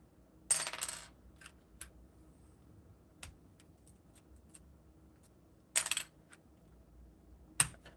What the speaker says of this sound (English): This is honestly the best way to take out keycaps.